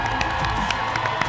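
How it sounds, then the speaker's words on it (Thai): Studio audience on a Thai television game show cheering and applauding, a dense, lively crowd roar with scattered whoops and claps over a steady wash of noise. "ขอเสียงปรบมือดังๆ"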